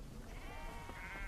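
A herd of sheep grazing on open ranch land bleats faintly in the distance, one wavering call rising over steady outdoor background noise.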